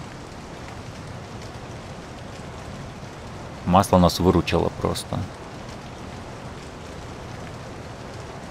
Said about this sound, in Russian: И дождь идет, который мы не видели.